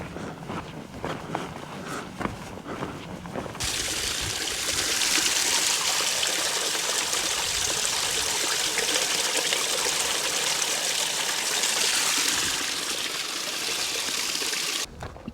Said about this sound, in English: There's a stream and a waterfall on the corner up here where I'm going to fill up with water.